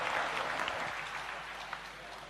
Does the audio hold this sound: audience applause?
yes